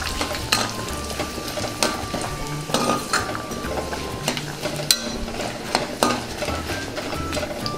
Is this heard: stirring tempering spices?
yes